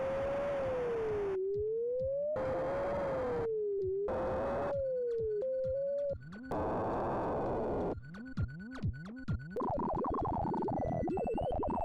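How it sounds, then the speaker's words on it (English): Low-pitched FM synth noise played through the C700 sampler in SNES style, giving warbling, bleepy computer-like tones that sweep and jump in pitch across a continuous sequence of sustained notes, loud and alone. "you get kind of a computer bleepy effect when you have a very low-pitched noise"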